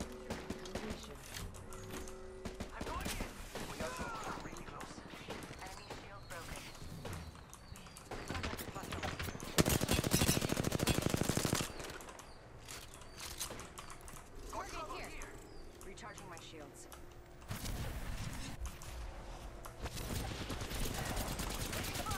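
Gunfire in Apex Legends Season 14 crackles in rapid, steady bursts across a long firefight, with a louder burst partway through, while voice callouts talk over the shooting.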